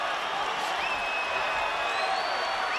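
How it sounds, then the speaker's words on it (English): A boxing arena crowd at Roy Jones Jr. vs John Ruiz stands and cheers in a steady, roaring wash of noise that holds at an even level throughout. "And the crowd stands and cheers Roy Jones"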